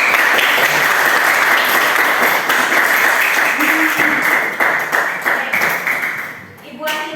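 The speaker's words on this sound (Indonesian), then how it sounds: "beri tepuk tangan untuk kalian" Classroom applause from students at the end of a lesson, loud and dense clapping that holds steady for several seconds before thinning out, with a voice briefly heard near the end.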